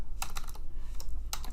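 Computer keyboard typing in quick bursts, with a short run of clicks, a pause, then another flurry of keystrokes, close and clear with no voices.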